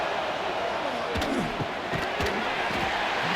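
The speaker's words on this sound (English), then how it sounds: "this crowd is at fever pitch" College football stadium crowd at Youngstown State vs Illinois State roaring continuously during a red-zone third down, with scattered bangs and shouts rising out of the dense wash of noise.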